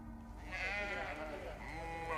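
Sheep bleat in a drawn-out, wavering cry that rises and falls, followed by a second bleat, close and fairly loud over a low rumbling background with no talk.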